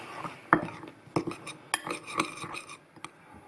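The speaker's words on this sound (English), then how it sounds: "So so we'll just stir that up." Utensil stirring paprika seasoning mix in a glass or ceramic bowl, a run of soft scraping and light clinks, a few sharper taps standing out, close and fairly quiet with no talking.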